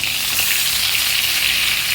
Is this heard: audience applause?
no